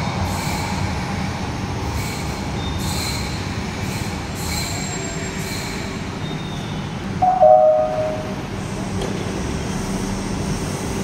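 Inside a moving Palembang LRT light rail train, a steady rolling rumble carries on throughout, with high wheel squeals and a brief louder clunk partway through; no one speaks.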